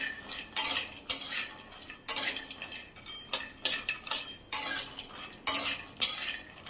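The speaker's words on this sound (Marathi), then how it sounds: "काजू बदाम आणि पिस्ता हे थोडेसे कलर चेंज होईपर्यंत आपल्याला तुपात परतवून घ्यायचे" Cashews, almonds and pistachios are roasted in ghee in a pan, heard as repeated scraping strokes of a metal spoon against the pan at an irregular rhythm over a faint background sizzle.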